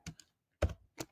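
Laptop keyboard being typed on to enter a terminal command, a few sparse, close keystroke clusters separated by brief pauses, no voices.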